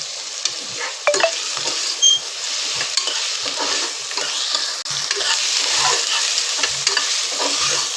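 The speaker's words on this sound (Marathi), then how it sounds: "त्यात आपण आता टोमॅटो टाकू. थोडंसं असं चिमूटभर जिरं टाकू." Tomato and a pinch of cumin fry in a pan for a Malvani pea rice, giving a bright continuous sizzle with frequent close scrapes and knocks of a spoon stirring against the pan, with no voices.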